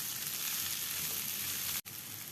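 Onions and chicken fry in a pan with a continuous bright sizzle that is close and loud, broken by one short gap.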